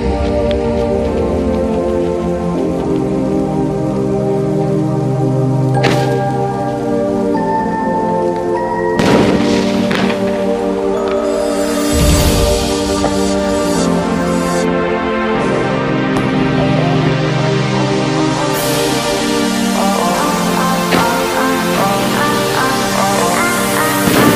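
Sky shot fireworks explode with loud crackling and popping filling the air continuously, with several sharp bangs and whistling bursts scattered throughout.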